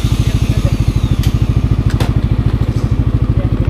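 Motorcycles idle nearby with a loud, fast, even engine putter, and a few brief clattering knocks sound over the running engines.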